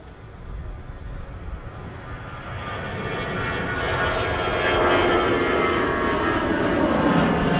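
An EasyJet airliner's jet engines at Manchester Airport, a broad steady roar that swells louder and fuller over several seconds as the aircraft nears, with no voices.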